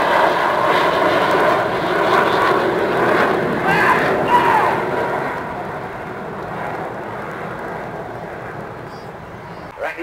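Display jets from an aerobatic team roar past at a seaside airshow, a loud sustained engine wash that slowly fades, with an announcer talking over it.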